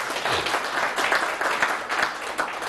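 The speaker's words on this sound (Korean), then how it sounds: "없으면 우리 박수 한번 쳐주실래요?" A lecture audience claps together in steady, dense applause, loud and close, sustained throughout with no voices over it.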